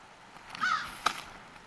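Crows caw outdoors, with one or two short harsh calls at moderate distance over a faint background hiss.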